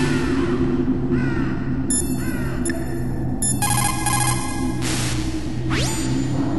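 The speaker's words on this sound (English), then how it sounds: "Those aren't crows. Those are northern ravens." Northern ravens caw in the Metal Gear Solid video game, loud repeated harsh calls over a steady droning game soundscape with electronic tones and a whoosh near the end.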